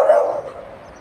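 A large dog in a park in Bugibba, Malta, gives a single loud, close bark that trails off quickly into quiet.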